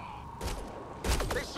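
Gunfire in the video game Mass Effect Andromeda: two loud, close blasts of shots, one about halfway in and a heavier burst near the end, with voices talking around them.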